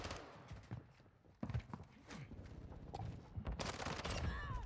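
Rapid gunfire bursts from a Call of Duty: Modern Warfare II ranked Hardpoint match, with sharp close shots and a denser volley toward the end over steady game ambience.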